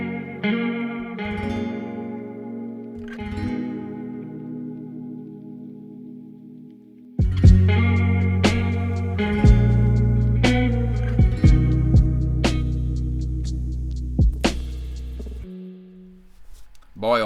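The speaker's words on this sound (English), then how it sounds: "I was delighted with that guitar tone though" Electric guitar with a chorus effect rings out in shimmering, wavering chords, first sparse and quieter, then fuller and louder with a deep bass underneath and sharp percussive hits, a voice speaking over the earlier part.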